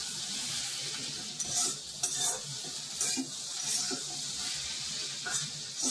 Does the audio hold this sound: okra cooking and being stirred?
yes